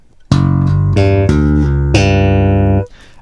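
A bass guitar plays a short lick of plucked notes in quick groups built around a tritone, clear and close with the final note ringing before it is cut off.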